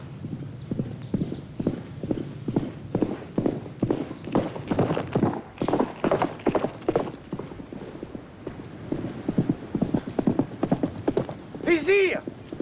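Horse hooves clip-clop in a steady, loud rhythm on a hard surface, with a brief whinny near the end, set in a 1970s French countryside drama.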